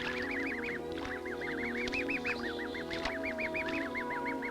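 Goslings call in repeated high, rising-and-falling peeps, steady and close, over a constant low outdoor rumble.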